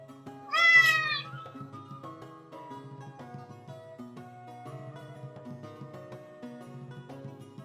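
A cat lets out one loud, drawn-out meow close by, followed by soft, steady music that continues underneath.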